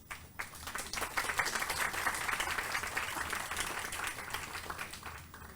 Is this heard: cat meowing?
no